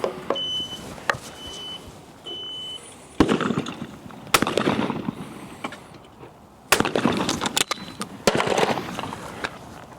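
Beretta 688 shotgun fired at clay targets outdoors, several sharp loud reports spaced a few seconds apart, each with a broad crack and brief tail, no talking.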